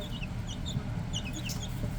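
Backyard chickens cluck softly at a mobile home, scattered short calls over a steady low outdoor rumble.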